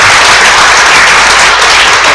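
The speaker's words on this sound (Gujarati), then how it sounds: "બેનો તમારે તાળીઓ પાડવી જોઈએ." An audience of women at a public talk applauds at a women's centre event, with loud, dense, continuous clapping that fills the whole stretch at a steady level.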